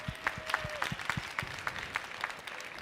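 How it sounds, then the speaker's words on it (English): Audience applause at a social enterprise pitch event, sparse and fairly quiet, with individual claps standing out in a loose rhythm over a faint steady tone. "one more round of applause"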